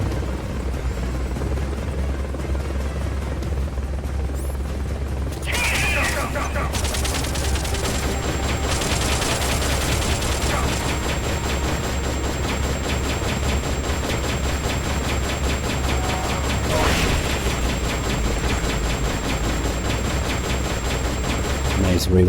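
Rapid automatic weapon fire in Metal Gear Solid Peace Walker, a dense continuous clatter under a steady droning roar resembling a helicopter, with brief sharper bursts standing out.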